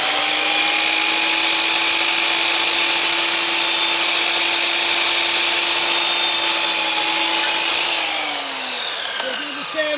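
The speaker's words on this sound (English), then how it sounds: "So she's now going to cut the mitre on the architrave." A power saw cuts a mitre through wooden architrave trim for a garden room window, a steady loud whine running for about eight seconds before winding down.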